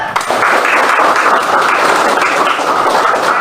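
Schoolchildren in a classroom break into dense, continuous applause, loud and close, holding steady for a few seconds.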